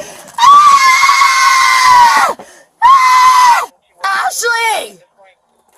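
A woman in the back of a police cruiser screams loudly in three long, high-pitched bursts, each breaking off abruptly, with short gaps between them.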